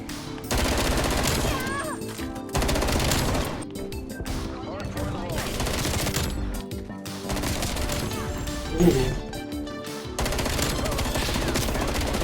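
Rapid FFAR assault rifle fire in a Call of Duty match, with dense, repeated bursts cracking loudly over busy game sound and a few brief pauses, while a voice talks over the top.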